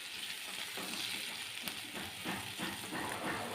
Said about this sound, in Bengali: গাটি কচু আর আলুটা ভাজা হয়ে গেছে।